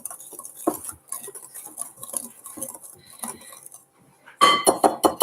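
A whisk scrapes and clinks around a bowl of bath bomb mixture with fragrance oil and coconut oil, a quick patter of close strokes, with a louder burst of clattering near the end.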